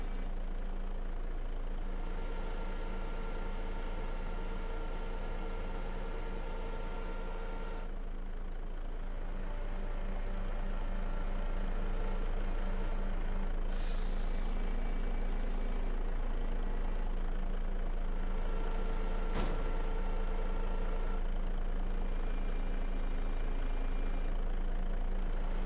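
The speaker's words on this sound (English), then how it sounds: "I'll move the truck, chat." A truck engine idles in a farming video game, a steady low rumble that grows louder partway through, with a brief sharp burst of hiss like an air brake and a later short thump.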